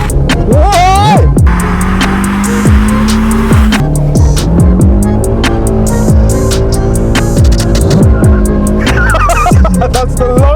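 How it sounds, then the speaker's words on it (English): A BMW E46 Touring drifts in freezing weather, its engine revving up and down in sweeping pitch while tires squeal in repeated bursts, loud and close throughout, with voices talking over it. "That's the longest drift."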